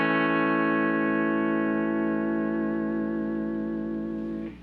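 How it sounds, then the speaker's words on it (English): A single guitar chord struck hard through an Electro-Harmonix EDDY vibrato pedal rings out steadily, starting with almost no pitch wobble before the vibrato gradually creeps in as the note sustains and fades. "You hear how it starts with no vibrato when you hit it hard."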